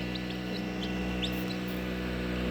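A hen clucks softly near eggs where chicks are hatching, short faint calls over a steady background hum.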